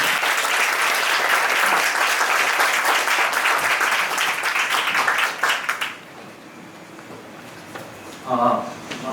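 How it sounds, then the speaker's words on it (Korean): An audience at an MSI Korea laptop launch event applauds in a dense, loud wash for about six seconds before it fades out, and a voice then speaks briefly. "박수 한번 주세요"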